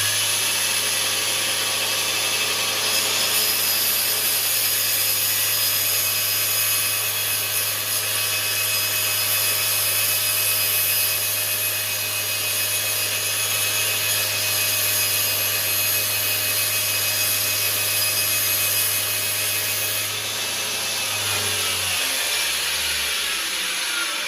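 A Craftsman yard tractor starter motor spun by a drill press at its top speed of 5,500 RPM gives a steady, loud high-pitched whine with a low hum beneath, running continuously for about twenty seconds before winding down near the end.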